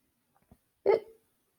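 A single short, sharp hiccup sounds once near the middle after a couple of faint clicks, close and otherwise surrounded by silence; it is likely a voice imitating a hiccup.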